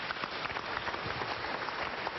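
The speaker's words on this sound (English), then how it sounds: "Clap for Jesus Christ" A church congregation claps together during a prophet's service, a dense, even patter of many hands filling the room for about two seconds with no voices over it.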